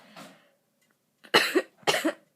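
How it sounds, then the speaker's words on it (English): Three harsh coughs: a softer one first, then two loud, close bursts after a short pause. "I'm sick. I can't stop coughing."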